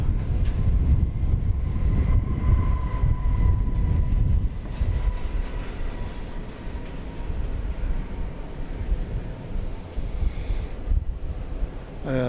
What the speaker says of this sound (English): Here's American Airlines arriving from Portland, Oregon, in Airbus A321